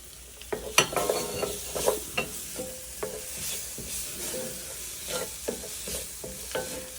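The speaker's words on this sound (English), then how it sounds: "Now I'll add the tomatoes. Saute it for another 30 seconds." Tomatoes are sautéed with masala in a pan for Punjabi chole, giving intermittent stirring scrapes and soft frying sizzle, close and moderately loud, with gaps between strokes.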